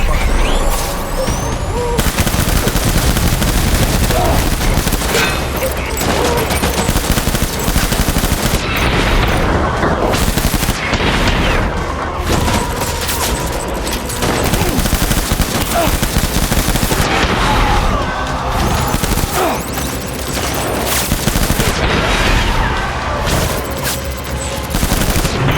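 Dense, continuous gunfire fills a Death Stranding battle, with rapid machine-gun bursts, overlapping shots and heavy blasts, loud and close throughout, with voices mixed in.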